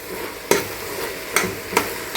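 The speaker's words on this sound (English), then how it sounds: "It's still on high heat, so I'm just cooking my vegetable now." Minced meat and vegetables stir-fried over high heat for a quick spaghetti stirfry, with a steady low sizzle broken by a few sharp scraping clacks of a utensil against the pan.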